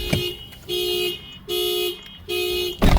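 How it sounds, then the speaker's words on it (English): A Toyota Hilux mini alarm system sounds the horn in three long, even blasts separated by short gaps, loud and close, with a click at the start and a thud at the end. "it sets off the horn and the hazards with our mini alarm system"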